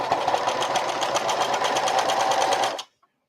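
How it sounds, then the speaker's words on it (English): A sewing machine runs a simple straight stitch along a tote bag seam, a steady fast mechanical whirr with rapid rhythmic pulsing. It stays loud and close for nearly three seconds, then stops abruptly. "then I'm going to stitch again, making sure that the other side of the bag is not in the way"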